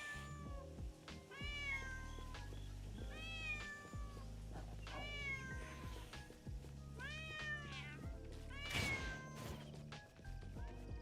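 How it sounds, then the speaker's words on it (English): Repeated cartoonish cat meows in a video game, rising and falling calls in quick bursts over a steady looping synth music bed, with a few thuds of scuffling between cats and dogs. "now the cats and the dogs are fighting each other"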